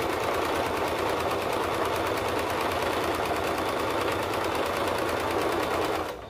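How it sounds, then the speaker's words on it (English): A sewing machine runs steadily while stitching the neck band of a crop top, its fast, even mechanical rattle holding a constant loud level for about six seconds before stopping abruptly. "That's my goal with the neck band on a sewing machine"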